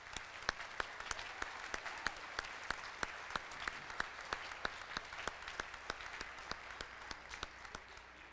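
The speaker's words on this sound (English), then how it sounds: "I'd just like to give them a big round of applause for all their years of service." An audience at a high school band spring concert applauds, a sustained crowd clapping punctuated by sharp, regularly spaced louder claps from someone close by, steady for the whole stretch.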